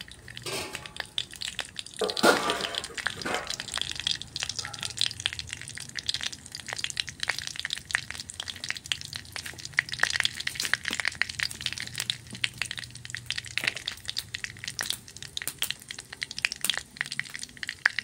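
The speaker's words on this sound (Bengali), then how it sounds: "পাঁচফোড়ন দেওয়া হলো গরম তেলে" Panch phoron five-spice seeds crackle and spit in hot oil, a dense run of rapid snapping pops that carries on for many seconds with no voices.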